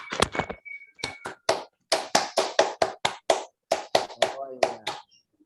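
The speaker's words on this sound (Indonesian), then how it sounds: "Oke, kita mulai tepuk pramuka." Students performing the scout clap, a rhythmic patterned sequence of sharp unison hand claps in quick groups and pauses, close and crisp, with a brief vocal chant mixed in.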